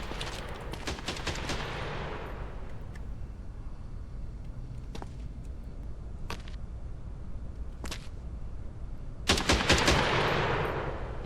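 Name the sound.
gunfire from video game Quarantine Zone: The Last Check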